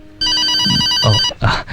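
A telephone rings with a bright electronic trill, then cuts off as voices briefly break in near the end.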